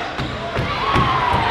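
A student cheer block roars and shouts at a girls' high school basketball game between Valley and Warsaw, with steady crowd noise and a few rhythmic thumps like a bouncing ball or stomping underneath.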